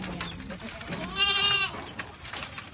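A single goat bleats nearby at a rural farmhouse, a wavering nasal cry in the middle, surrounded by faint background voices.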